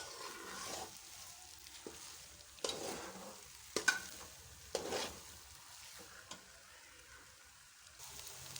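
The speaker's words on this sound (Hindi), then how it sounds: "तो अभी इसको तकरीबन 15-20 मिनट मैं ऐसे ही हिलाऊंगी" A spoon stirring makhani halwa in a pan, soft scraping strokes repeating every second or so with small clacks against the metal, faint and close, over a gentle sizzle.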